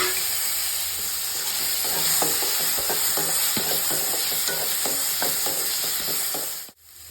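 Turkey berries go into a frying pan and are stirred with quick, rhythmic spoon scrapes over a steady hissing sizzle, close and unbroken until it cuts off abruptly near the end.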